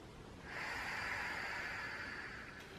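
One long, steady breath drawn in and let out through the nose in a quiet indoor space during a hip stretch, a soft airy hiss rising near and lasting about two seconds, with no talking.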